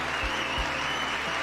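A short burst of applause from a small group, steady hand clapping with a couple of low thumps underneath.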